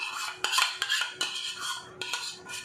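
A metal spoon scrapes and taps against a pan, clearing out the last of the sisig tofu, a run of close, bright scraping strokes broken by sharp clinks.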